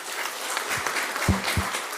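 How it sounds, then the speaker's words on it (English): Audience applauding a panel of speakers on stage at a startup event, sustained clapping throughout, with a couple of low thumps near the end. "this is not a political clap, but a genuine clap to all of those people"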